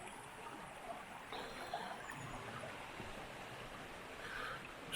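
Water running in at a fish pass on the River Derwent, a faint, steady trickling flow heard from a distance against soft outdoor ambience, with no talk.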